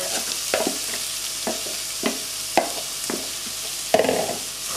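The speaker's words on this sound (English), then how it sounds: "Now that the butter is melting, we're going to add the mirepoix, which is equal parts of celery, onions, and carrots." Celery, onions and carrots stirred in melted butter in a pan, a soft continuous sizzle under scattered scraping knocks of a utensil against the pan, close by with no talking.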